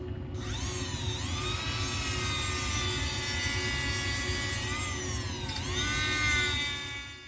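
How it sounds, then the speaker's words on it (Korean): A high-pitched variable-speed rotary tool with coarse sandpaper whines steadily, its pitch dipping and rising as it smooths the inside of a cast ring, loud and close with no talking. "거친 사포로 반지 안쪽의 주조 표면과 출력 무늬결을 다듬어 줍니다."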